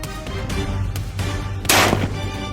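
A .270 hunting rifle fired at camels in the Australian outback, with one loud sharp report standing out near the end over steady background noise and smaller earlier bangs.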